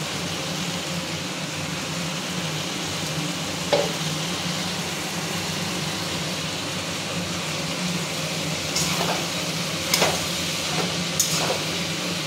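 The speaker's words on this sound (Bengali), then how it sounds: "এবার আমি মোচাগুলো দিয়ে দেবো।" Soaked banana flower frying in a pan, a steady broad sizzle that holds throughout, with a few sharp clicks of a stirring utensil against the pan, close and even.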